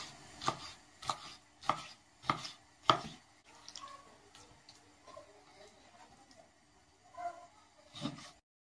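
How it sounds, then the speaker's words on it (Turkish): A knife chopping liver strikes a cutting board in a steady run of sharp chops, about one every half second, then pauses and resumes with a few more. "Sıra geldi ciğerimizi doğramaya"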